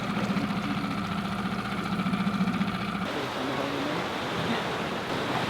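A dinghy's outboard engine running on the sea off the Sardinian coast, a steady droning putter that cuts out partway, leaving wind and lapping water.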